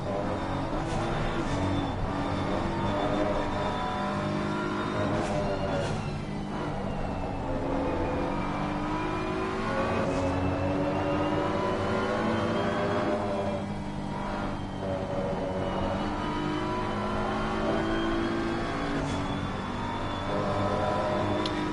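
Onboard engine of a BMW race car in a PS5 racing game at Kyalami, a loud, steady, droning engine note rising and falling through gear changes and revs for the whole stretch, with no talking.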